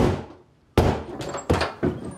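Heavy pounding on a door in a Japanese drama scene: three loud, close thuds spaced about a second apart, each ringing briefly, after a short quiet stretch.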